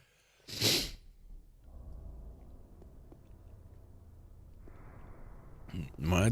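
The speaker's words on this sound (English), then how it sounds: "suddenly I'm sneezing for some reason" Two sharp sneezes, one near the start and another at the end, separated by quiet breathing and faint room noise.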